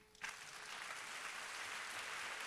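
Applause breaks out at a national Christian retreat for unmarried people, a dense, steady clapping from a large crowd that starts suddenly after a quiet moment and holds at an even level.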